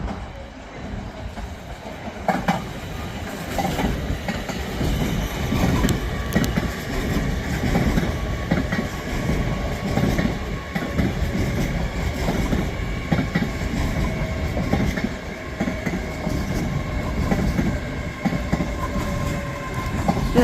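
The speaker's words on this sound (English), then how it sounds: "whilst also coming in there is going to be an LNER Zoomer off to, I believe that's the one off to Leeds" An LNER Azuma train pulls into Peterborough station on the East Coast Main Line, a continuous rumbling roll of wheels and carriages with faint clicks and hum, close and steady throughout.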